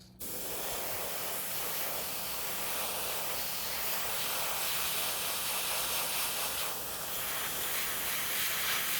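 An airbrush sprays paint onto a golden bass topwater popper fishing lure in a steady, continuous hiss, close and unbroken after a brief start.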